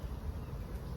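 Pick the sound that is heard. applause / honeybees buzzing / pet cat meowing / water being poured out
honeybees buzzing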